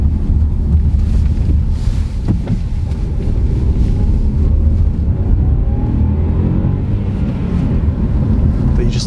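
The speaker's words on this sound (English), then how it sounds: "Just love the rasp of the three-cylinder." MG ZS with a 1-litre three-cylinder engine and six-speed manual on the move, a steady low engine and road rumble heard from inside the cabin, mixed with wind buffeting.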